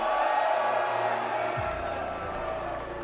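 A large esports crowd at the Rainbow Six major finals in Montreal cheers and roars continuously as a dense, loud wash of many voices, with steady low rumble throughout.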